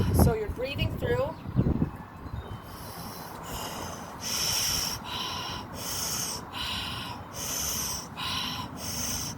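A person takes big, deep breaths through the chest during a neutral-position postural exercise, with slow, regular airy inhales and exhales repeating close to the mic after a brief stretch of talking.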